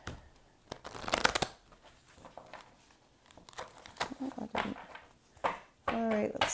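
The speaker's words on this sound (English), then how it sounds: "One more shuffle here." Tarot cards from a Light Seers deck are shuffled by hand in quick riffling bursts, close and fairly quiet, with a person speaking softly between and over the shuffles.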